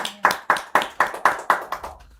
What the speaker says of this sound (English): let us give a round of applause for our panelists